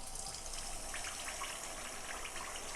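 Rice batter pours into an oiled appam pan as a faint, continuous liquid gurgle and light spattering, low and steady with no talk.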